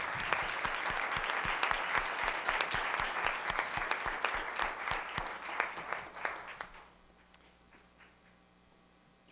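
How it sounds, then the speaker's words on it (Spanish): An audience at a cultural tourism talk gives a round of applause for the organizers: a dense burst of many hands clapping that stops abruptly, leaving quiet room tone. "un aplauso para todos los organizadores."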